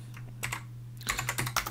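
Someone types commands on a computer keyboard, with a few scattered taps followed by a quick burst of clattering keystrokes over a low steady hum.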